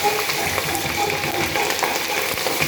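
Green chillies sizzle and crackle steadily in hot oil in a pan while goat curry is cooked. The frying is loud and continuous throughout and sits up close.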